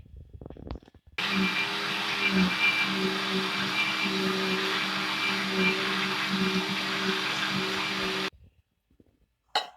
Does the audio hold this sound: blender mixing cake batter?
yes